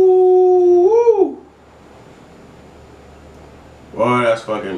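A dog howls loudly for just over a second, the long tone rising and bending, then a quiet gap follows before a voice starts talking near the end.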